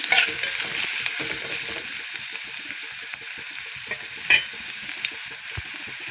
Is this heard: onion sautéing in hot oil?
yes